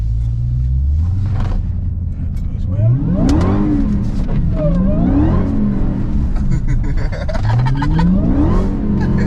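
A Dodge Hellcat accelerates on a wet, dirty road with wheelspin, its loud engine rumbling and revving in rising surges while tires slip, sustained and close throughout.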